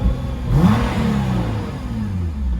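A Nissan R35 GTR engine with its valved exhaust closed revs once, rising and falling in a soft, muted swell, then settles into a low, steady idle nearby, with no talk.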